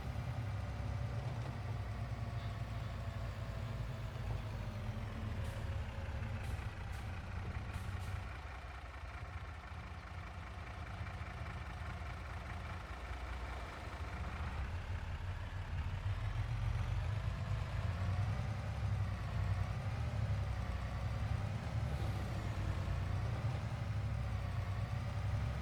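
A vehicle engine in the Farming Simulator 22 video game runs steadily while driving, with a continuous low drone whose pitch shifts slightly as the speed changes.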